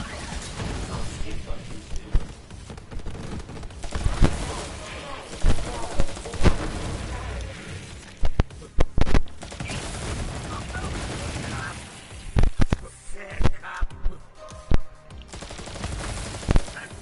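Rapid bursts of gunfire from FL4K's weapons in Borderlands 3, loud repeated shots and crackling impacts in uneven clusters, with a voice talking over the action.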